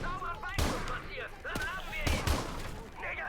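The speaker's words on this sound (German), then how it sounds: "Ein Schrotflinte." Shotgun blasts in the video game Call of Duty Modern Warfare 2 Remastered, several sharp loud shots spaced irregularly, mixed with game noise and someone talking.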